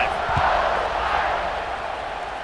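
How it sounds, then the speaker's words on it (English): A stadium crowd in a football video game roars and cheers steadily, a broad loud wash of noise with no gaps. "this crowd is feeling themselves after that last drive."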